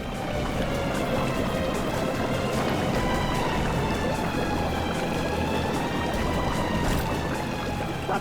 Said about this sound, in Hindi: सर, पानी भर रहा सर।